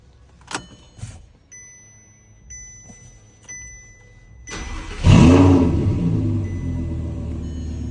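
An Audi R8 V10 fitted with a full titanium exhaust cranks over and fires into a loud, close idle settling after a brief flare, preceded by door clicks and a chime.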